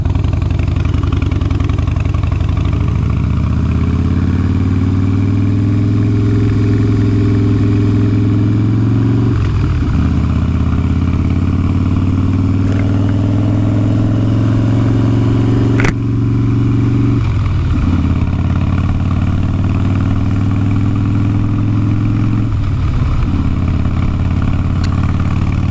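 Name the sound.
motorcycle engine idling and riding in traffic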